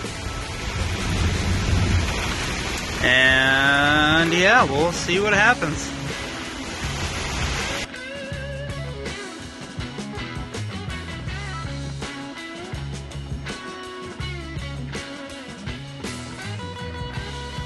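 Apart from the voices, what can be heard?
thunderstorm with heavy rain and thunder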